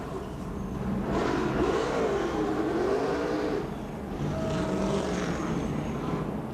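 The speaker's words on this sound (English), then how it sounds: "This is a tough pit road right here to do a burnout on with all that banking." A NASCAR Sprint Cup stock car does a burnout on the steep banked pit road at Dover, its engine a loud sustained roar that rises and dips in pitch, with a brief lull before it roars again.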